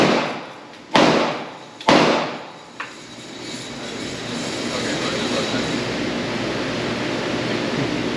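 A Ruger Mini-14 .556 rifle fired at a shooting range: two loud, sharp cracks about a second apart, a fainter third report, then a steady hiss of range noise.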